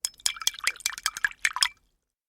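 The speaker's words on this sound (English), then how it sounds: "Someone painting a picture and then cleaning the brush in water again before they choose another colour" A paintbrush swished and tapped in a water pot between colours gives a quick cluster of small splashes, drips and glassy clinks, close and fairly quiet, ending after about two seconds.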